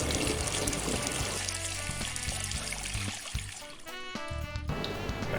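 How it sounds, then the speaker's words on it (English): Potatoes being washed under running tap water in a home kitchen: a continuous, loud splashing flow, with music playing underneath. "Wash the potatoes thoroughly."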